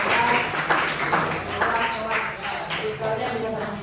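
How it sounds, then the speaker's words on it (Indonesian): Classroom of junior high students applauding a classmate after a talk on cyberbullying, a dense burst of many hands clapping at once, steady and fairly loud throughout with a murmur of voices mixed in. "Oke, beri tepuk tangan untuk Musa."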